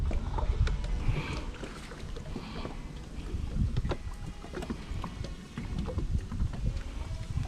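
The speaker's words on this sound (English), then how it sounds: "I'm sure y'all hear this on camera, but man, this wind ain't joking today." Strong wind blowing over open water from a small boat, roaring and buffeting the microphone with a heavy, continuous rumble and occasional knocks, with no speech.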